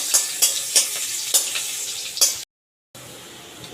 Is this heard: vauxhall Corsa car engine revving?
no